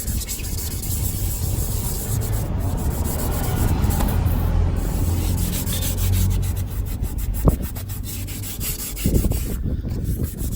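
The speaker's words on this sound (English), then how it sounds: "do some abrasive pad, also known as Scotch Brite" An abrasive Scotch-Brite pad scrubs a car brake caliper, already wire-brushed, to lift the top coat of paint, a loud, continuous close rubbing and scouring with a few sharper knocks near the end.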